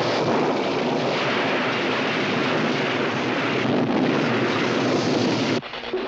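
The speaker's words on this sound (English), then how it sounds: "It was a violent summer storm." A violent summer thunderstorm in a 1970s horror film trailer: a loud, steady roar of wind-driven rain and rumbling fills the whole stretch without a break, then drops away abruptly near the end.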